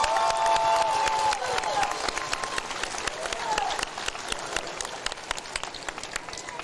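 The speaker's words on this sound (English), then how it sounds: "let's give both of these warriors a big round of applause." Crowd applause and cheering after a professional boxing bout, loud dense clapping that fades slightly over several seconds, with a few voices shouting through it.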